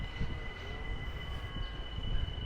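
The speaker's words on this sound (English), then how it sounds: "That whistle noise you hear, if you hear it, is the train in the distance." A faint, steady whistle from a distant train drifts over a low rumbling background in the Bronx, New York, thin and sustained throughout.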